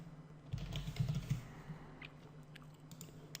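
Quiet, rapid keystrokes on a computer keyboard, a short burst of close clicking taps with a few scattered lighter presses afterward, no talking.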